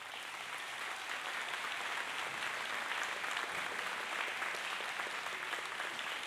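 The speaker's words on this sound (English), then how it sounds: "Would you please give her a big round of applause?" An audience at the Austin Partners in Education 2013 celebration applauds executive director Kathy Jones, a continuous, even wash of clapping that stays fairly distant and soft throughout.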